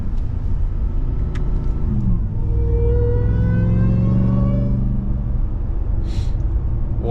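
A RAM TRX's supercharged engine with a JMB intake revs up under load, a loud deep rumble rising in pitch with a pronounced whine climbing above it, then easing off.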